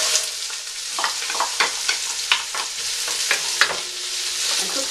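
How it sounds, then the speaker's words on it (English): Chopped onion fries in olive or coconut oil in a saucepan for pumpkin-apple soup, a close, steady hiss and sizzle broken by regular stirring scrapes. "cook the chopped onion"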